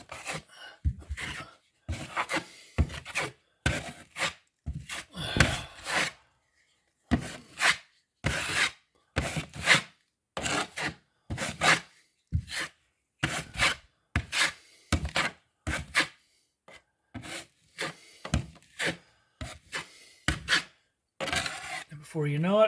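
A drywall knife repeatedly scrapes and rasps drywall mud across a wall in short rhythmic strokes, with brief pauses between passes, close and fairly loud.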